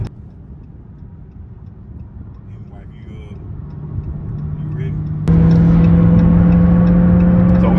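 A Dodge Charger Hellcat Widebody Daytona engine while driving: a low rumble inside the car that builds gradually, then jumps abruptly into a louder steady drone as the transmission shifts hard, with someone talking early on.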